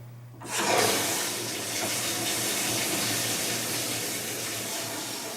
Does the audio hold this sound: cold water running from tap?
yes